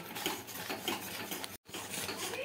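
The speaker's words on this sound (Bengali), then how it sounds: "আর এভাবে আমি নেড়ে যাচ্ছি, নইলে কিন্তু আবার নিচে লেগে যেতে পারে" Spoon scraping and stirring custard as it thickens in a pan over a gas flame, a steady rapid clatter of utensil against metal with one brief silent break.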